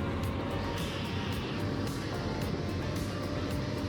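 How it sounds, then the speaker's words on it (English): Powerful diesel engine of a logging truck roaring steadily and loud as a winch takes the strain, a continuous heavy rumble with no talk. "Listen to that powerful diesel engine roar as the winch takes the strain."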